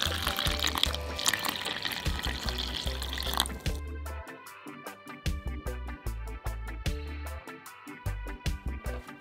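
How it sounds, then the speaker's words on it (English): Water poured a little at a time into dumpling flour with mixed-in butter for vegan Jamaican fried dumplings, a running trickle followed by repeated wet, squelchy mixing sounds close by, with no talking. "Pour in water a little at a time and start mixing."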